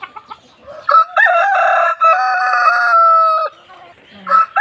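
Aseel chickens cluck in short bursts, and a rooster gives a loud, drawn-out crow close to the microphone before more clucking follows.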